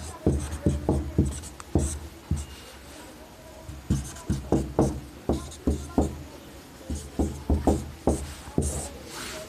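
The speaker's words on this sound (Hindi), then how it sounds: "इधर लिख देते हैं।" Chalk or marker writing on a board during a geography lesson, a series of short tapping and scratching strokes in irregular clusters, close and fairly clear, with a teacher's voice faintly present.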